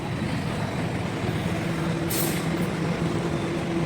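Cars and auto-rickshaws queue at the Balwadkar CNG filling station, making a steady, loud wash of idling engines and traffic rumble with a brief sharp air hiss about midway. No one speaks.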